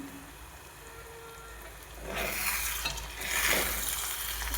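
Eggs frying in a pan for lunch give a soft steady sizzle that swells into louder crackling bursts partway through, with no one talking.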